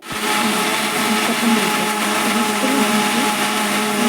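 A mixer grinder whirs loudly and steadily, blending roasted ingredients with grated coconut for a Mandya-style village bassaru masala; the motor runs unbroken from start to finish with no talking.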